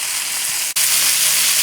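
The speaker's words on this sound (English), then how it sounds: "have enough olive oil in there so you can hear that sizzling sound" Browned chicken pieces sizzle in olive oil in a pan for chicken cacciatore. The hiss is a loud, dense, steady frying sound, cut by one brief break, with no talking.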